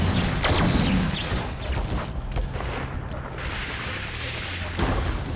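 Heavy gunfire from a powerful cannon-like weapon in the Deadpool video game on PC, loud booming blasts with a dense rumbling low end that rolls on throughout, swelling again near the end.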